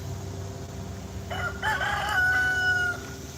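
A rooster crows once, clear and fairly close, among a flock of about twenty chickens in a garden, over a low steady background murmur of the flock.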